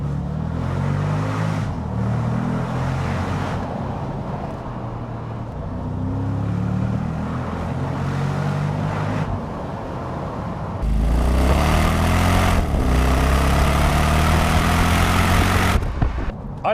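A Mercedes SL55 AMG V8 rumbles and revs, its deep harmonic engine note rising and falling through several throttle blips, then swelling into a loud, sustained roar near the end with no one talking.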